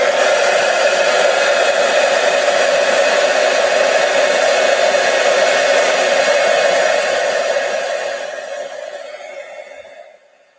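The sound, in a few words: embossing machine running on two card pieces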